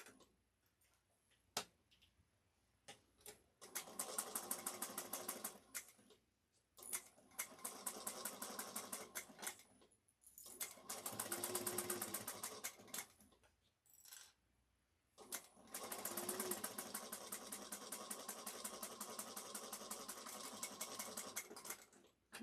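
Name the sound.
sewing machine top stitching a shoulder bag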